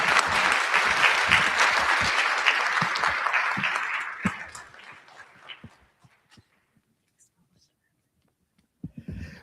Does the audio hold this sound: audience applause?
yes